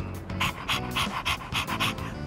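A dog pants in the video game Persona 3 Reload, quick rhythmic breathy huffs repeating steadily and close, fairly quiet with no talk.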